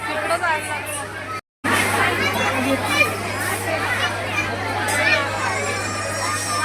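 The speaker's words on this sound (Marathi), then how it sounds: "मरणाची गर्दी आहे तुम्हाला गर्दी दाखवतो" A crowded D-Mart supermarket on a Sunday, with a dense hubbub of adult and children's voices and chatter all around and a brief dropout, while a nearby person talks over it.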